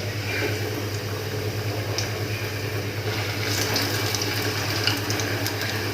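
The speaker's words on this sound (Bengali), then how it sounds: "তো নিন চিকেন, তেলটা আমাদের গরম হয়ে গিয়েছে। এখন আমরা এটাতে এই চিকেনটা দিয়ে দিব।" Chicken pieces frying in hot oil for KFC-style spicy fried chicken, a steady dense sizzle and bubbling that runs continuously and fairly loud, with a low hum underneath and a few faint clinks near the end.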